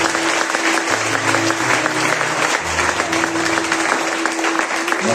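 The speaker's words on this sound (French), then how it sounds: "acclame très fort pour lui" A church congregation claps during a Sunday Lent Mass, a dense, steady wash of applause that fills the space while a sustained musical tone carries beneath it.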